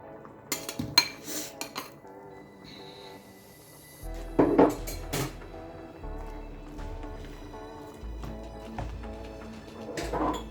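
A metal spoon scoops blended okra out of a cooking pot for Nigerian okra soup, giving several close clinks and scrapes against the pot rim with short pauses between them. No voices.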